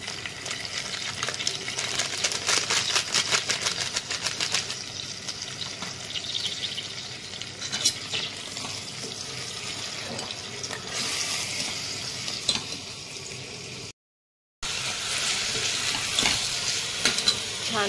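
Chicken in a mixed masala gravy sautéed and stirred in a pot, a dense steady hiss and sizzle with scraping stirs, briefly cut to silence near the end before resuming.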